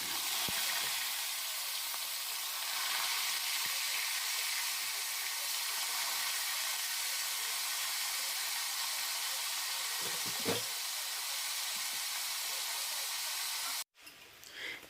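Meat hitting a hot pan for a Senegalese dish, with a loud, continuous close sizzle that holds steady throughout and then cuts off sharply near the end.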